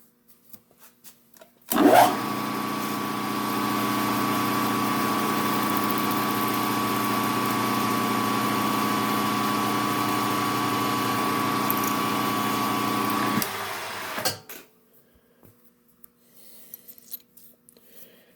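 A small lathe with quick-change tool holders drilling, a steady, close mechanical whir with a harmonic hum that runs for about twelve seconds, then stops abruptly and leaves near silence.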